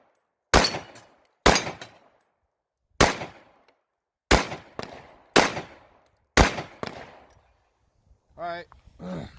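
Six loud, sharp .45 ACP shots from a Ruger SR45 pistol fired at close range outdoors, spaced irregularly about a second apart, each cracking and ringing briefly before a short clatter or voice at the end.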